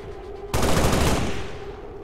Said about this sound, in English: Let's hopefully get off a round of Overwatch fire